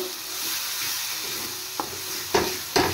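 Cumin powder frying in a pan for fish dal, with a soft continuous sizzle and a few sharp scrapes or taps of a spoon toward the end.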